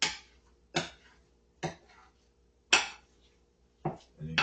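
A spoon mixing cranberry relish with orange in a bowl gives five sharp, close clinks spaced about a second apart, each ringing out briefly, with no talking.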